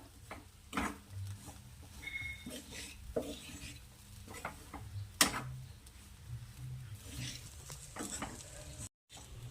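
A spoon scrapes and clanks around a pot of chickpea and dal vegetable curry as sambar masala is mixed in, soft irregular stirring taps over a faint sizzle, close and quiet.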